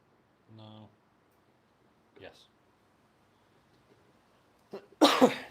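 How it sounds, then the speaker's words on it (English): A few faint vocal sounds and small noises break a quiet room, ending in one sharp, loud cough close by. "I've got a really bad cough."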